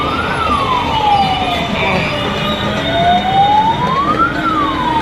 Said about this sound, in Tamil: அதில் ஆம்புலன்ஸ் வருது.